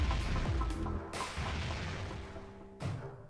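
A Basilisk cannon fires in REDCON, a deep booming blast followed by a rolling decay, with another heavy shot near the end, loud and close with no talk.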